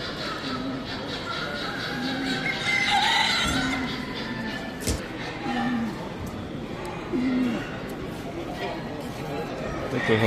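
Chickens and roosters in the Leipzig exhibition halls cluck and let out several scattered crows that rise above the steady murmur of a crowd talking throughout.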